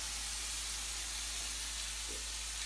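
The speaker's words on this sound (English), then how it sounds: "You see how this is sizzling?" Food sizzling steadily in a hot pan after wine is poured in, a bright, even frying hiss that holds without a break, close and fairly loud over a low background hum.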